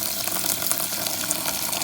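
Tap water pours steadily into a bucket set up for growing tomatoes, a continuous hissing gush with no voices.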